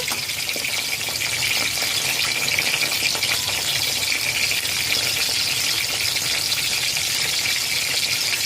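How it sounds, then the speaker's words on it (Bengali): Afghani malai seekh kebabs fry on a medium flame, a continuous bright sizzle with light crackling and rattling held at an even level throughout. "মিডিয়াম ফ্লেমে চার মিনিট ভেজে নিয়েছি"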